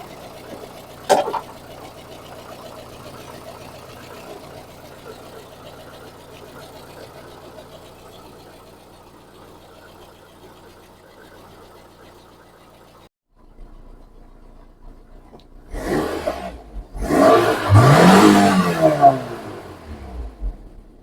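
A VAZ 2109 engine runs rough and misfires, a low uneven idle chugging steadily after one sharp knock, then rising into louder, harsher revving bursts near the end, with no talk.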